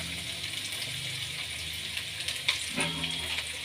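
Ginger, garlic and green chillies frying in cooking oil in a wok on the stove, a steady bright sizzle with a stir or two adding brief scraping bursts, heard up close with no talking.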